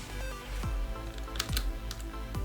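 Keys on a computer keyboard are pressed in a few separate, crisp clacks at an uneven pace, close and clear over a faint background hum, with no talking.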